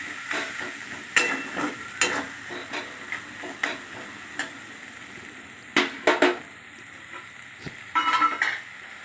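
Ginger, garlic and green chilli paste frying with onions in a pan, a soft steady sizzle broken by repeated scraping and clinking strokes of a spoon against the pan.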